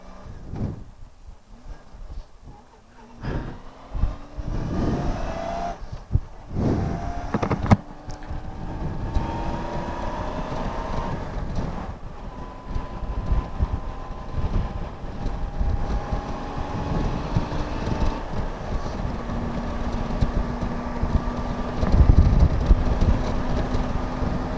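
Riding a Honda Goldwing GL1500 motorcycle fitted with a cut-down windshield, a steady engine drone rises and falls through gear changes, buried in heavy rushing wind noise and buffeting throughout.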